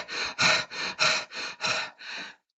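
A person voices imitation panting as if winded after running, seven rapid breathy in-and-out gasps in a steady rhythm, close and alone.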